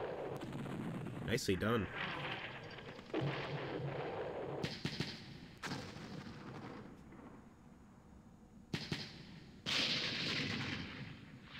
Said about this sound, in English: they just killed 2 of our guys with artillery strikes there